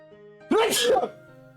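A single sharp human sneeze bursts out loudly over a quiet, faintly humming background, brief and close.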